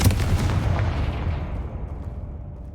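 Confringo fire spell explosion in Hogwarts Legacy, a single loud, heavy blast right up front followed by a rumbling decay that fades over a couple of seconds, with no talk.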